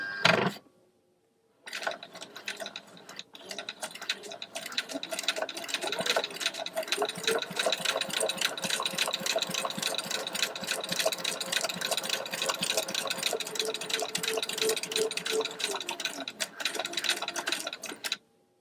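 A domestic sewing machine runs in one long continuous stretch, stitching fabric at a half-inch seam, with a steady whirring mechanical chatter at moderate level after a brief click and pause at the start.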